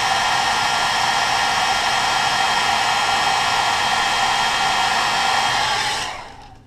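A heat gun blows steadily as it heat-sets fresh paint on a crankbait, a loud, continuous airy roar held for about six seconds before it cuts off and fades.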